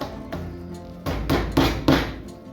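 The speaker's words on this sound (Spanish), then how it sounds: "Ponemos una prensa ahí para que no se mueva." Clamp knocked into place on wooden rafters, giving a few hollow wooden thunks: a light tap, then three louder knocks about a third of a second apart, close by with no talk.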